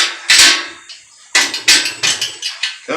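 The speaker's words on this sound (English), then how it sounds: "Oh, I like to use my mechanic's hammer." Mechanic's hammer striking metal while working on a Jaguar on a rotisserie in a garage: one hard ringing blow, a pause, then a rapid run of about seven sharp metallic strikes, loud and close with no talking.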